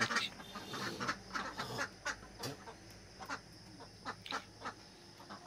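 Khaki Campbell ducks on a village duck farm quack in short repeated bursts at close range, with chicken-like clucks mixed into a busy, irregular chorus.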